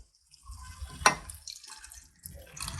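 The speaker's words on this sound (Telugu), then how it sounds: "ఇప్పుడు కొద్దిగా వాటర్ యాడ్ చేసుకోండి." Water poured into a simmering paneer curry: a short splashing pour near the middle, close and fairly quiet, over low kitchen rumble.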